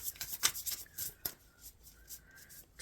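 Tarot cards being shuffled by hand, a quick riffling and sliding patter with soft taps, fairly quiet and close, no voices.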